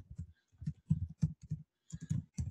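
Computer keyboard typing in close, quiet clusters of rapid key clicks separated by short pauses, with no voices.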